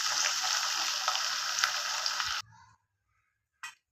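Ivy gourd (tindora) sizzling in hot oil in a pan, a steady close frying hiss that cuts off abruptly, followed by quiet and a brief clatter.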